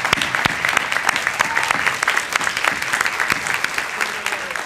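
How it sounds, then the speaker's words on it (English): Audience applauding a young poet, steady dense clapping from a crowd, loud and close, continuing evenly throughout with no speech over it. "I just want to give another round of applause to the young person that brought that first poem"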